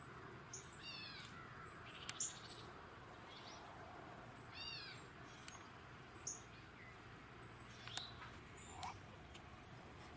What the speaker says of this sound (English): with a cardinal chirping in the background